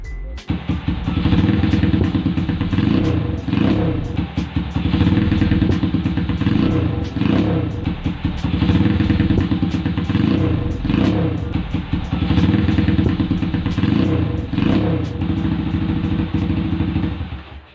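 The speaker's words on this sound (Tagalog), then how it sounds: "kung pakikinggan nyo ng mabuti, nagde-delay po yung response ng kanyang throttle" A motorcycle engine with a throttle that responds late runs loud and steady close by, its rough, pulsing drone cycling through uneven revs with clattering mechanical ticks throughout.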